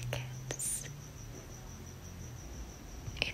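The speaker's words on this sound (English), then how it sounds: "I can hear crickets." Faint, steady cricket chirping fills a very quiet night in Los Angeles during a power outage, with soft nearby rustles and a small click but no talking.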